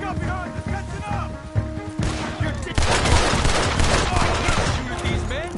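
Gunfire in a PS4 video game, with rapid bursts of shots and a denser volley of gunfire and crashes in the second half, heard close and loud alongside game sound.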